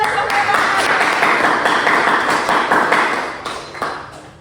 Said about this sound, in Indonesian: tepuk tangan untuk Les